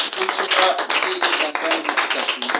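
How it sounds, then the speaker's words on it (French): A church congregation claps in quick, uneven bursts. The applause is close and fairly loud, and voices mix in with it. "Acclamez pour la parole du Seigneur."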